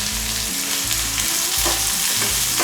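Onions with a few curry leaves sautéing in a pan for pachai payaru kulambu, a steady close sizzle with rhythmic stirring scrapes repeating through the short stretch, no voices.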